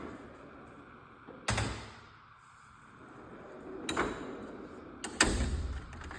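Drawers on a full-bank tool service cart slide and clack, with three sharp sliding impacts spread over several seconds amid quiet shop ambience, one of them the wrench drawer being pulled open.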